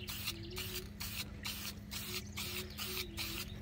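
Spray dye hisses in short repeated bursts onto a vinyl plastic side piece from a car seat, each pass a few tenths of a second long with brief pauses between, close and steady, with no talking.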